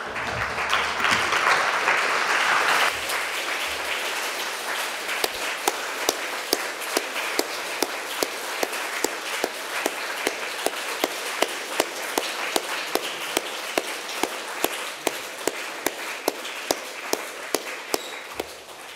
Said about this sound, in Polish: Niech te oklaski będą podziękowaniem pani minister za ten